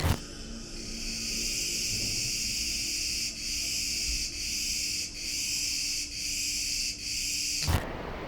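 A loud, continuous high-pitched cicada drone fills the night on Crete, pulsing in regular waves about every second before cutting off abruptly.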